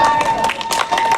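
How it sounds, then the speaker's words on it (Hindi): Audience applause at a Children's Day celebration event, a dense steady patter of clapping hands filling the whole moment, loud and close, with a faint tone and murmur of voices underneath. "धन्यवाद भाई, तालियां बजाओ"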